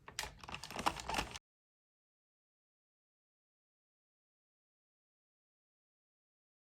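A Sentro knitting machine cranked one round with no yarn, giving a quick burst of dry plastic clicking that lasts just over a second and then stops into silence.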